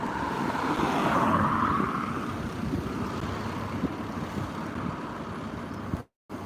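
Gusty wind hits the microphone outdoors, high up in Blackburn near the Church of St. James, as a constant low rumbling roar that swells early on, then cuts out abruptly near the end.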